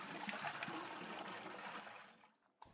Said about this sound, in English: We repeat the process of rinsing the chicken bones and soaking it in hot water just one more time.